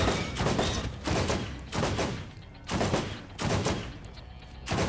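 Repeated bursts of loud automatic gunfire from shooting enemies in Borderlands GOTY Enhanced, each burst lasting about a second, separated by short pauses.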